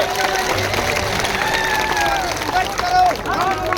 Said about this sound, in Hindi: उनका जोरदार तालियों से स्वागत करेंगे, जोरदार तालियों से।